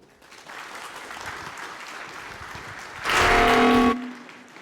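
At a hacker conference, a seated audience gives a moderate round of applause as a talk on a Linux camera library begins. Steady clapping runs for several seconds, then a louder, brief burst with a tonal hum cuts in before fading.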